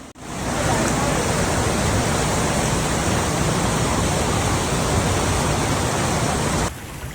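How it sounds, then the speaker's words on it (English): Floodwater rushes through flooded streets in Hamilton near Cincinnati, Ohio, a constant broadband hiss and roar that swells in after a brief pause and cuts off sharply near the end. "There's a lot of water."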